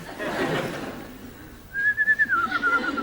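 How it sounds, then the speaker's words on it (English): A person whistles a short, wavering tune that rises and falls, starting partway through after a stretch of muffled background murmur and continuing to the end. "No whistling."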